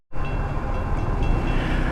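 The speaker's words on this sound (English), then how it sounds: "We got a train coming on this end" A train rolls past a level crossing in a steady, loud rumbling roar with low wheel and rail noise, heard from close by on the roadside with no breaks in the sound.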